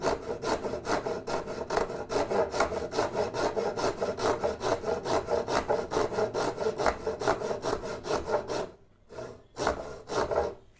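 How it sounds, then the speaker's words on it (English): A back saw cutting an angled kerf in wood for a bench peg, a close, even series of rasping push-pull strokes that pauses briefly near the end before a few final strokes, with no talking. "Angled cut, you just want to make sure that your saw matches the angle"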